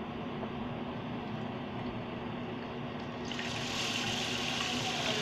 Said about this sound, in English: We're filling up the pool.